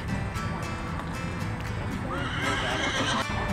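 A horse whinnies at a county fair horse show, over a steady crowd murmur and nearby hoof clopping.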